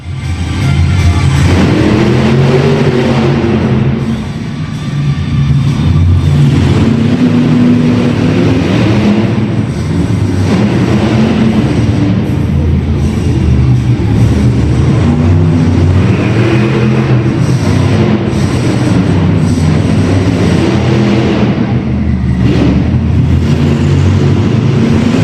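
A monster truck engine, the Airborne Ranger, drones and revs loudly and continuously nearby, its pitch rising and falling in long swells with no talk over it.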